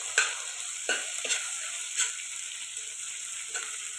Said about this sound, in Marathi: लसूण, कोथिंबीर, आल्याची पेस्ट टाकून घेते आणि छान तळून घेते